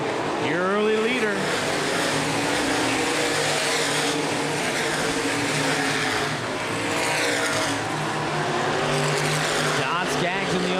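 Open-wheel modified race cars roar around Angola Motorsport Speedway in a feature race, engines loud and sustained with rising and falling passes, while an announcer talks over the noise.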